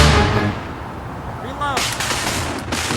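Musket volley fired on command in a re-enactment of the Revolutionary War battle at Fort Montgomery: a sharp burst of massed gunfire crackles loud and close, followed by a second ragged volley and ringing echoes.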